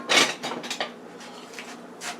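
Dumpling filling is stirred in a bowl, giving soft clinks and scrapes in irregular bursts, close and fairly quiet.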